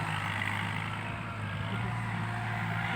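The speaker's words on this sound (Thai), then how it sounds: "ตอนนี้รถไถกำลังกำลังปั่น" Tractor working a rice paddy on a Thai farm, a steady mid-distance engine drone with a constant low hum and no clear speech.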